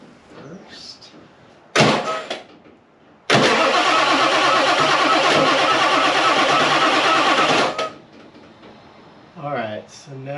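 A 7.3 Powerstroke diesel swapped into a Ford Bronco gives a brief crank, then a loud, close, steady roar for about four and a half seconds that cuts off abruptly. People talk before and after.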